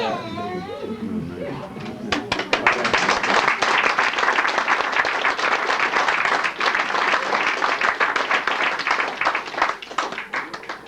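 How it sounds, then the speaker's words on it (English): An audience at a presentation bursts into applause after a brief stretch of talk and music, the clapping loud, close and sustained, then thinning toward the end. "A round of applause."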